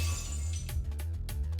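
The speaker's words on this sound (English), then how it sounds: "My right dagger shatters." A dagger shattering in the video game Fate/stay night: a quick run of bright, glassy cracks and clinks, several brittle hits in close succession over a low background drone.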